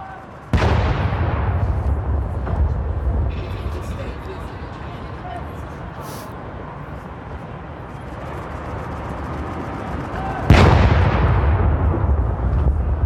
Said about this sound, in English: There's the gun salute, we believe.